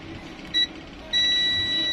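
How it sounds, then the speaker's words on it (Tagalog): Continuity tester buzzer beeping while probing a KONKA 50-inch LED TV circuit board: a short tone burst, then a longer steady beep held to the end, over low background hum. "Yun, may buzzer tayo."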